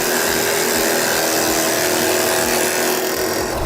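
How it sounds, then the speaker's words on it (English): Forstner bit drilling a hole in wood, a short, loud, continuous high-pitched power tool whine with rapid pulsing cutting texture, no talking. "I've decided I'm going to go with the Forstner bit"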